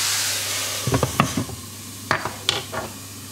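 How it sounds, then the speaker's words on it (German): Button mushrooms frying in a pan with onion for a chicken and feta bake, a steady soft sizzle broken by several sharp clicks and scrapes of a utensil stirring against the pan, close and without talk. "Und dann die Pilze noch etwa 2 Minuten braten."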